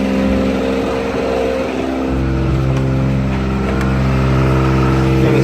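A Kubota pony motor on a forestry bucket truck runs at a steady idle, a close, loud, even engine drone with a constant hum and no talk.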